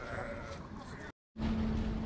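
Sheep bleat at a livestock market in Kara-Balta, Kyrgyzstan, with one clear sustained bleat near the end over busy crowd noise and people talking nearby.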